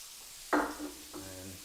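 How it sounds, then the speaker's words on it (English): Shallots tossed into a hot butter pan for chicken marsala: a sudden loud sizzle burst, a brief fading hiss, then a second, softer surge of sizzling, up close with no voices. "I want to throw the shallots in here now."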